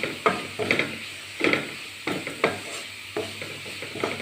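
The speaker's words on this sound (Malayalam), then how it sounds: "നന്നായിട്ട് മിക്സ് ചെയ്ത് കൊടുക്കുക." A spoon stirs crushed chilli through a frying egg, drumstick-leaf and jackfruit-seed thoran in a pan, giving repeated scraping strokes roughly every half second over a soft sizzle.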